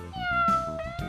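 A domestic cat meows in a drawn-out, wavering call with a couple of pitch swells, close and clear with no voices.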